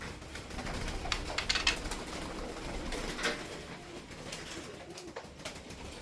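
Soft cooing of tumbler flight pigeons with scattered chirps and rustling over a steady outdoor background, moderately near.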